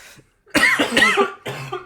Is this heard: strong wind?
no